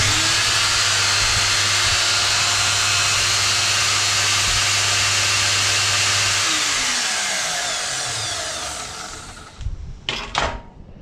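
A Ryobi trimmer's electric motor runs loud and steady at full speed with a whining hum, spinning down around the six-second mark and fading out, followed by a few brief clunks and handling noises near the end.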